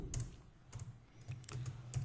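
Soft keyboard typing on a computer while code is written, a handful of quiet, irregular key clicks spread over two seconds, close and alone without speech.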